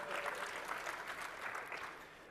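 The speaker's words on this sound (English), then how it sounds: "So you can clap again." A conference audience bursts into applause, giving a dense, steady clatter of many hands that stays moderately loud and close for a couple of seconds.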